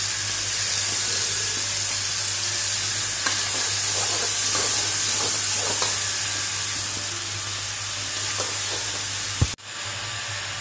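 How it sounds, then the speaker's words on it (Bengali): Onion fries in a hot pan for chow mein noodles, a steady, close hissing sizzle with occasional stirring scrapes and a sharp knock near the end, no voices heard. "পেঁয়াজটা আমি ভেজে নিচ্ছি।"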